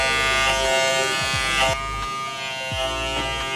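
Electric hair clippers buzz steadily up close while cutting a drop fade on curly hair, the motor tone wavering as the blades pass through the hair, with no talk.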